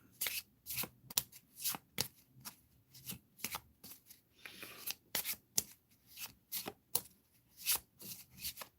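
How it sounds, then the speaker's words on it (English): A deck of special game cards is shuffled over and over, a series of sharp riffling snaps in quick, uneven bursts, close and fairly quiet, with no talk. "So let's shuffle this. There's a lot of special cards in here."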